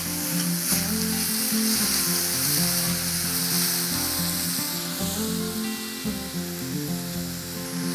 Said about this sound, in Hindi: ये प्याज हमारे थोड़े थोड़े से पिंक हो गए हैं और अब मैं डाल दूंगी इसके अंदर टमाटर।